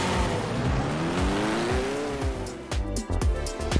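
A car accelerates in the Roblox game Car Crusher 2 on the Mountain Top time-trial track, its engine note climbing and falling through gear changes while the tires squeal, loud and close, with no talking.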